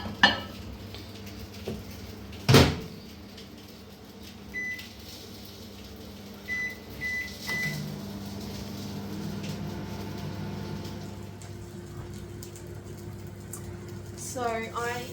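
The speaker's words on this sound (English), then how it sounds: "So I've got these all ready to pop in the microwave." A household microwave oven heats sausages and nachos in a home kitchen, giving a steady low hum broken by a few short electronic beeps, with faint kitchen clatter around it.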